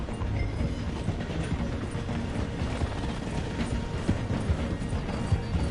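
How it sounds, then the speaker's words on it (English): A train in Red Dead Redemption 2 slows to pass through a station, giving off a loud, continuous mechanical clatter and ratcheting rumble that holds steady throughout, with no voices. "The train is slowing down to go through the station."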